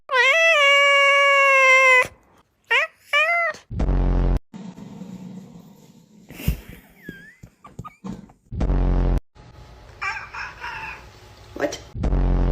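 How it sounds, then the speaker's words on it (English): A cat lets out a long, loud rising-and-falling meow up close, followed by shorter yowls and cries mixed with bumps and handling noise, while a person talks softly in between. "It's just a kitty."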